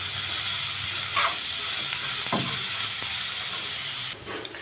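Onion and garlic paste frying in a pan give a steady, close sizzling hiss throughout, with a few faint stirring scrapes and no talking.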